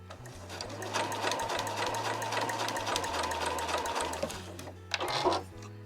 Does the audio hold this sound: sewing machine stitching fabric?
yes